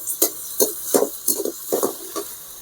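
Onions and green chillies sautéing in a pan for chicken soup, heard as a steady run of short scraping, stirring bursts about every half second, close by with no talking.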